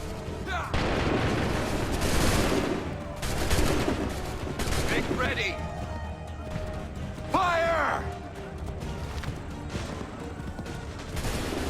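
Musket volleys crack out in an Assassin's Creed III battle, several loud bursts of gunfire spread across the scene amid shouted commands and a busy in-game soundscape.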